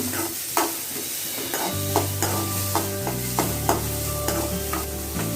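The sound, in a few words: onion and green chili frying and stirred in pan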